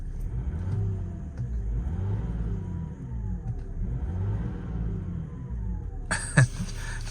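A 2004 BMW E60 530d six-cylinder diesel is revved twice in rising and falling sweeps, then settles back to a smooth idle, heard up close with a brief clatter near the end.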